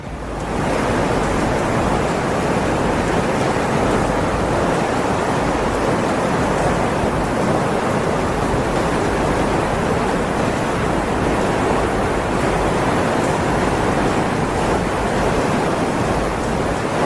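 Raging floodwater surging through a street strong enough to sweep a car away, a loud, continuous broadband roar and rush that holds steady without pause, with no voices over it.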